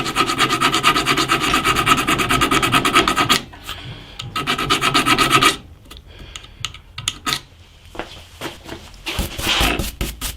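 Metal file rasping steadily across a bolt head clamped in scrap wood, with fast rhythmic strokes in loud bursts broken by pauses, then sparser scraping and handling noises.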